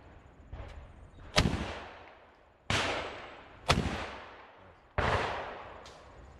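Shotgun blasts at a sporting clays station, four loud sharp reports spaced roughly a second apart, each with a long echoing decay across open ground.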